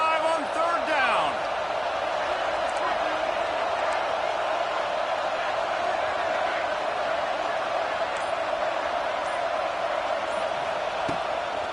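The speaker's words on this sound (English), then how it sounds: "The Buckeye crowd alive on third down." A Buckeye stadium crowd roars in an NCAA football video game, a steady wall of broadband cheering that holds level throughout, with faint brief whoops and a commentator's voice blending in.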